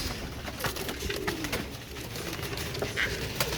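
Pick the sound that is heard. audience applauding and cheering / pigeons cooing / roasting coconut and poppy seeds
pigeons cooing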